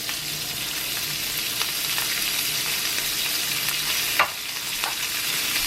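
Steak frying in a hot pan for a Philly cheesesteak, a loud, steady sizzle close up with a brief stir or clatter near the end.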